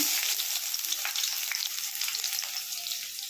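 A steady, close hiss and crackle of chopped onions frying in hot oil for chicken curry, with faint stirring scrapes underneath and no voices.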